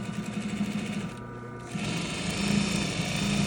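A sewing machine stitches binding onto a quilt in a quilt shop, a close, rapid mechanical chatter that briefly slows and dips, then resumes at a quicker, louder pace.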